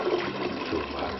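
A couple of litres of water pour into a container to mix white and brown clay for handmade pipes, a short gurgling, splashing flow heard close up without talk.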